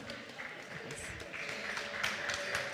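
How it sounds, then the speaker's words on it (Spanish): A crowd at a mushroom and wine pairing tasting workshop at a mycology fair in Soria applauds steadily throughout, a dense wash of claps with some voices mixed in. "Vale, pues un aplauso"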